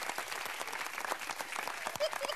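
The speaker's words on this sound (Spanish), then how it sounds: "Un fuerte aplauso, señoras y señores." Brief burst of audience applause at a lively Spanish-language club show, dense clapping mixed with crowd noise and a voice talking over it.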